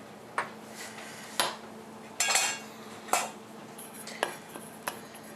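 Scattered clinks and scrapes of a wooden spoon mixing pie dough in a bowl, a handful of separate knocks spaced irregularly, fairly quiet and close with no talking.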